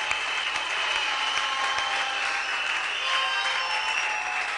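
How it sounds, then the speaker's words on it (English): An audience at a church meeting claps together, a steady, even patter of many hands that holds at one level throughout. "Clap your hands."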